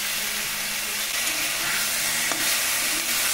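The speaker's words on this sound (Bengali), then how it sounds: "শাক দিয়ে খুব ভালো করে উল্টি পাল্টি নেড়ে নেব" Boiled mixed greens are stirred and tossed in a hot pan, giving a steady, close sizzle and frying hiss with soft scraping of the turning greens throughout.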